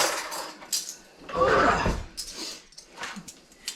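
Teaspoons and other cutlery rattle and clink as someone rummages through a kitchen drawer, with a louder jangling burst in the middle and lighter scattered clinks around it, close by.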